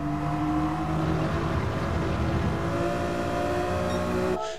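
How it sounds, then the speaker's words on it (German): A 1997 BMW M3 engine held at full throttle in a racing video game, a steady loud harmonic drone with sustained whine, running continuously before cutting off abruptly at the end. "Und hier gebe ich Vollgas."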